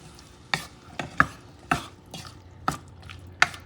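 Red beans stirred in a pot with a spoon, about six distinct wet scraping knocks at uneven intervals over a low simmer, close and with no talking.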